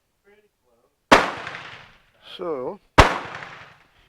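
Two sharp, loud gunshots from a Spanish Destroyer carbine at target practice, about two seconds apart, each ringing out and decaying, with a brief spoken word between them.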